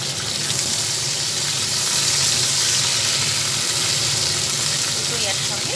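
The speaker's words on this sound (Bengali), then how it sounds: "দুটোই একসঙ্গে ভেজে নিই।" Onion and capsicum fry together in a pan, giving a steady loud sizzle with bubbling crackle that holds evenly throughout, with no voices.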